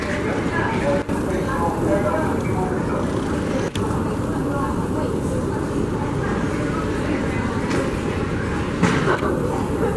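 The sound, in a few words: subway train in station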